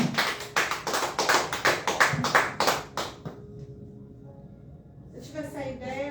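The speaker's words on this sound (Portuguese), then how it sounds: "Aplauda o Senhor." A church congregation applauds in quick, rhythmic claps for about three seconds, then the clapping stops and a voice speaks over the quiet room.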